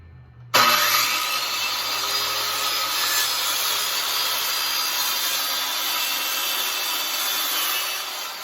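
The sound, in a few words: circular saw squaring off the end of a board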